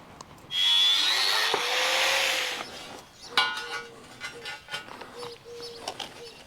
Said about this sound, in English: So I'm going to cut the steel work for both sides of the gate at the same time.